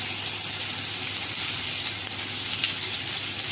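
Potatoes and onions fry together in a pan, giving a steady, close sizzle with a bright hiss and no talking.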